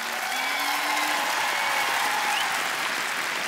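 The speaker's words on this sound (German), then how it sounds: "Einmal Applaus für den Benny." Audience applause at a comedy show in Cologne, a dense steady clapping from a crowd that holds evenly for the whole stretch without pause.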